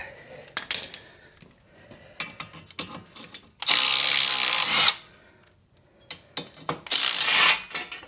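Work on the steering knuckle of a 2012 Ford Focus during wheel bearing replacement: scattered clicks and clanks, then two long, loud bursts from a power tool, close by.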